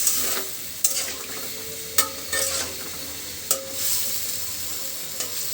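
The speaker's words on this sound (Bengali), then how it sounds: "সবজি এবং মশলাটা খুব ভালোভাবে" Okra, vegetables and spices get stirred and tossed in a pan, with sharp scrapes and knocks from the utensil at irregular intervals over a soft, steady sizzle, close and fairly quiet.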